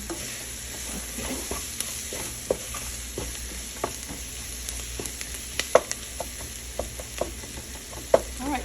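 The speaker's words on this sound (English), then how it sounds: "you just let your onions cook for like 4 or 5 minutes with the cooking oil" Onions fry in cooking oil with spices in a pan, a steady soft sizzle broken by scattered clicks and scrapes of stirring, no talking.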